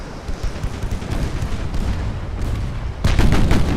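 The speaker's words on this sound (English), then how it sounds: "Switch to armor piercing secondary guns." Armor-piercing secondary guns of a dreadnought firing in a naval video game set in 1900s Japan, a rapid rumbling series of booming shots ending in a louder, sharper burst.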